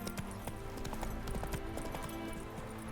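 Roach the horse galloping in The Witcher 3, hooves clopping in a quick, steady rhythm at close range under a faint ambient bed.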